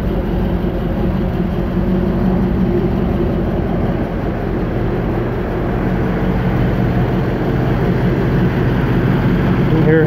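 A 1966 Chevy Nova wagon idles with a steady, smooth, low exhaust drone, loud and close, holding an even rumble for the whole stretch with no ticks or misses.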